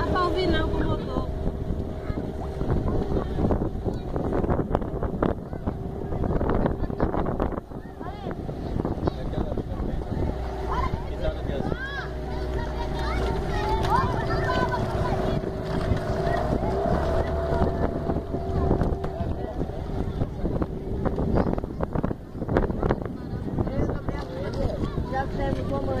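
Steady drone of a motorboat engine on a speedboat trip to Siribinha, running continuously and loud throughout with wind buffeting the microphone and voices partly buried beneath it.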